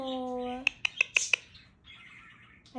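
An Indian Ringneck parrot gives a short talking-style call with tonal harmonics, then a quick run of five sharp squawks, followed by softer chatter, close and clear in a quiet room.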